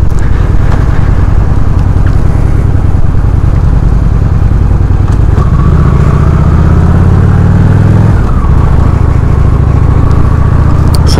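A Honda Shadow RS motorcycle pulls hard in third gear, its loud close engine note rising, easing at about five seconds, climbing again, then dropping near eight seconds before building once more, with rushing wind throughout.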